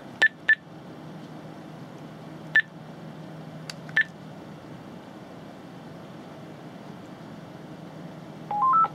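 Telephone keypad tones on a Speedport W900 V phone system: a few short, separate beeps spaced over several seconds against a steady low hum, ending in a quick rising run of tones.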